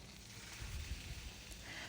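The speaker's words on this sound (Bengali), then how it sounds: "সব মাছগুলো এক এক করে ভেজে নিচ্ছি" Pieces of rui fish, coated with spices and mixed with potato, fry in hot oil in a wok, giving a steady, faint broadband sizzle throughout.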